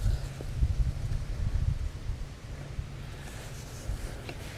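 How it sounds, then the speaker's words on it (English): Strong wind buffets the microphone at an outdoor rimfire shooting range, a deep, gusty rumble that is heaviest for the first two seconds and then settles into a steadier, softer roar. "Oh boy, this wind is no joke today"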